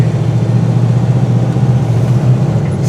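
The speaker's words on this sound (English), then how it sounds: "I love how the engine sounds, woo-hoo-hoo, sounds mean" Steady low rumble of a 1985 Ford Bronco engine while driving, a continuous deep drone heard up close inside the cab with no talking.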